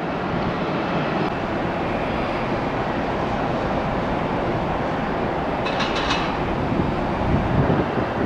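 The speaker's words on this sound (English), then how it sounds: "Ooh, heavy jet on the way." Heavy jet aircraft landing at Tampa International Airport on a chilly day, a loud, steady broadband roar that holds throughout without any voices.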